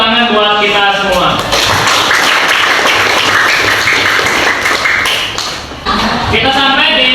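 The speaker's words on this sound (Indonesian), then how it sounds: "Tepuk tangan buat kita semua." A class breaks into applause at the end of a school lesson after group presentations, several seconds of dense clapping framed by a teacher talking before and after.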